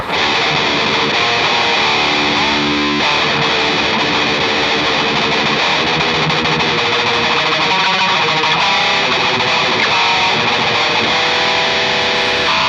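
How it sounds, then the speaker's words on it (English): Electric guitar through a fairly plain distortion, a dense, loud, saturated wall of chords and sustained notes that never lets up, with no voices over it. "I do use a fairly straightforward distortion"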